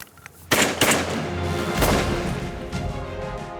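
Three or four sharp shotgun blasts go off in quick succession at snow geese on a waterfowl hunt, loud and close, with a rumbling echo trailing after each shot.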